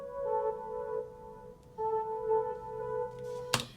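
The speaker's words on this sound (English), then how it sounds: "the last thing that I added was the melody line" Simple synth melody line from a lullaby-style track, a thin sustained lead holding long notes with a pause between phrases and a sharp click near the end, moderately quiet and alone.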